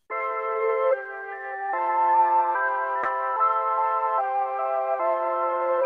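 A sampled flute plays a sustained chord progression with no effects, each chord held about a second before shifting to the next, steady and close with no voices, and a brief click near the middle.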